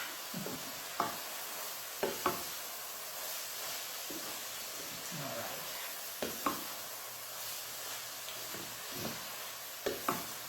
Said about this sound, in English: I'm working over a fairly hot heat, but I'm stirring it so nothing is catching in the pan